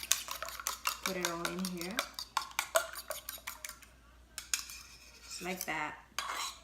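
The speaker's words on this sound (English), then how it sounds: "two eggs. We're gonna scramble it so we can mix it." Two eggs being scrambled with a utensil in a bowl, with rapid rhythmic clinks and scraping of metal against the bowl in bursts, close and fairly loud, with a brief voice speaking partway through.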